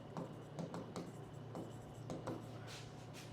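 A definition of a position vector is written by hand, with quiet, close pen strokes on paper in short repeated scratches and no speech over them.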